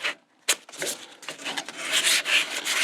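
Sanding dyed wood by hand, a few short scratchy rubbing strokes in quick irregular succession, close and fairly soft, with no voices.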